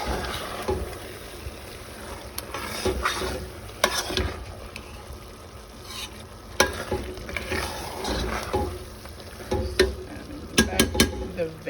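Vegetables for a pasta sauce sizzle in a pan while being stirred, with scraping and clattering strokes rising in bursts over a steady frying hiss, close and fairly loud.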